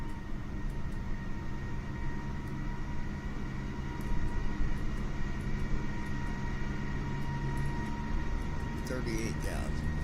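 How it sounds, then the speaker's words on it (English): A Boeing 777-300 airliner in Microsoft Flight Simulator 2020 gives a steady, loud engine and cabin roar that rises slightly midway, with faint clicks over it. "There goes the airplane"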